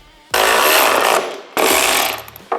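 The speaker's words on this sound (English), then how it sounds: "Now I'm going to go ahead and tighten up the bottom screws" A power tool runs the bottom screws tight during a stage 3 exhaust install on a Harley-Davidson Street Glide (2014–2023), in two loud, close bursts of whirring with a short pause between them and a brief blip at the end.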